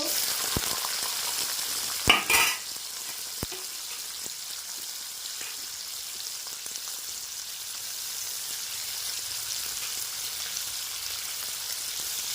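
Cut radish pieces fry in a pan of hot oil with a steady, close sizzle throughout, and a brief louder burst of clattering and spitting comes early on.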